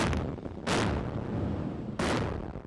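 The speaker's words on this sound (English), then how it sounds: "they're the only force firing live rounds" A warship's guns fire live rounds, two loud booming blasts about a second apart, each with a sharp onset and a rolling, fading tail over steady background noise.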